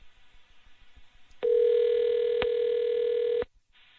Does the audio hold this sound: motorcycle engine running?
no